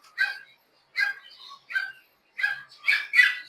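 A small dog whimpers and yips in short, high, whiny bursts, about six in a row, close and fairly loud with brief pauses between.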